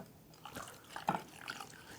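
Water is poured into a pot for yogurt soup (ash-e-doogh), giving soft, quiet splashing and trickling in short bursts.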